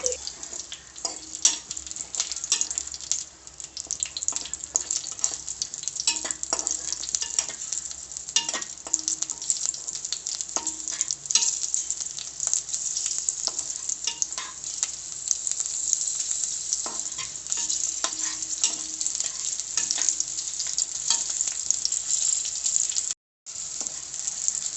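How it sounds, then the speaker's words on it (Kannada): Green chillies fry in butter in a pan for hotel-style chutney, giving a steady, even sizzle with faint crackles and occasional stirring scrapes that continue for the whole stretch, with no talk. "ಈಗ ಹಸಿಮೆಣ್ಸಿಕಾಯಿ ಹುರ್ಕೊಳ್ಳಿ, ಸ್ವಲ್ಪ ಚೆನ್ನಾಗಿ ಫ್ರೈ ಮಾಡಿ."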